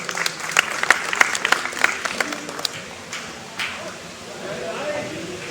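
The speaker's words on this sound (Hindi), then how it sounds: "इसके लिए जोरदार तालियां।" A crowd claps at a prize distribution ceremony for a pigeon-flying tournament, with sharp scattered hand claps that swell briefly and then thin out and fade, leaving room noise and some talk behind.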